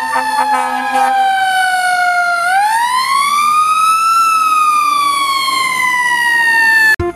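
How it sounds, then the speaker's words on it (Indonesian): A toy fire truck siren wails with an electronic tone that rises and falls, loud and near, ending with a click. "Yang ini namanya truk pemadam kebakaran."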